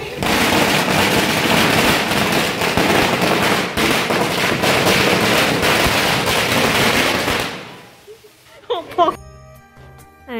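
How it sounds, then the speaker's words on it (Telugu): Firecrackers bursting in a dense, loud barrage during a nighttime Ganesh Chaturthi welcome at an apartment, continuous crackling for about eight seconds before dying away, followed by faint musical chiming. "ఇక్కడ క్రాకర్స్ని కాలుస్తున్నారు చూడండి"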